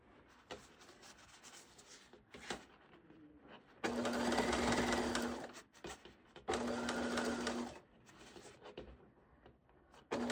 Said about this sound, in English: It might be a little tricky, sewing around this curve.